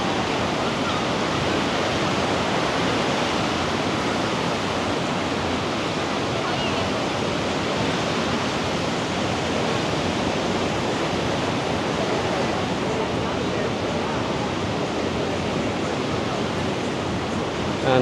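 Big, bumpy ocean waves break at Echo Beach in Canggu, Bali, producing a steady, broad surf roar that continues without pause and with no clear voices over it.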